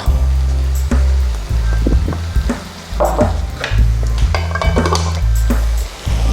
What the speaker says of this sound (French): Mettez ensuite vos noix dans le mixeur.